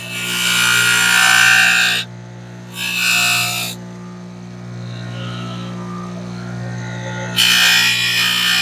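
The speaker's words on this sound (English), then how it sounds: "I'm just taking this over to the Scotch-Brite wheel. I'm going to pull that out and just relieve that edge just a little bit." A Scotch-Brite wheel smooths the edge of a kydex holster in loud grinding bursts, one long pass, a shorter one, then a pause with the motor humming before another pass begins.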